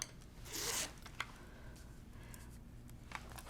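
Quilt fabric for a Halloween bat block is cut, with a brief rasping swish near the start followed by a few faint, scattered snips and ticks in a quiet room.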